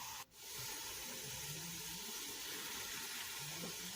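Half a cup of water pours steadily into salted, peppered lamb mince for lasagne, a continuous soft splashing hiss that lasts several seconds and is close and quiet.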